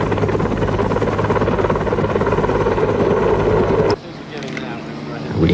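A rescue helicopter's rotor drone fills the first four seconds loud and steady under background voices, then cuts abruptly to a quieter interior rumble before the roar briefly swells again.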